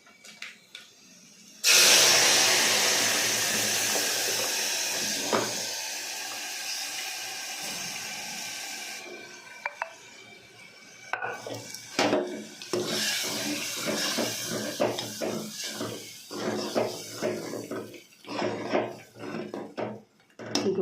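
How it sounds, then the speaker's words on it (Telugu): Tamarind broth pours into a pot of Telugu-style lentil soup with a sudden steady splashing gush. It fades into intermittent liquid spatters, stirring clinks and scattered handling noises. "కొంచెం పులుసు పోసుకున్నాం."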